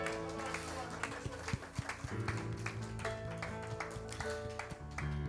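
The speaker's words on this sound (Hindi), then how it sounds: "Let's put our hands together." A church congregation claps in a steady rhythm over music, the sharp hand strikes close and repeating beneath a speaking voice.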